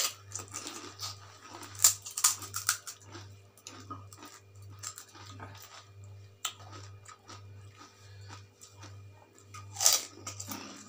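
Crunchy, spicy golgappa (phuchka) being bitten and chewed up close, with repeated crisp crunches and wet chewing, a few sharper bites standing out, and no talking.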